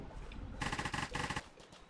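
A video game gun fires in two quick bursts of rapid shots, moderately loud and close, with no voices.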